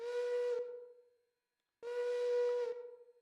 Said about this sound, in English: What a good whistle that is.